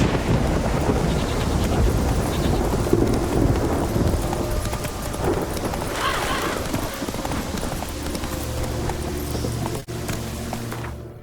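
Horse hooves clip-clop steadily in The Witcher 3, a continuous loud trotting rhythm mixed with rain and rumbling thunder, with occasional faint voices in the background.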